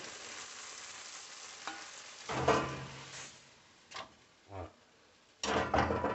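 Soft thuds and clattering as chunks of cooked eggplant for ratatouille drop into a pot, with a quiet sizzle underneath and a few separate knocks.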